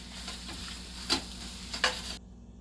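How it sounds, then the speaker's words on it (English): Boiled potato filling for vada pav is mixed in a pan, giving two or three brief scraping stirs over a low background hiss before stopping abruptly. "I'm just going to give it a final mix"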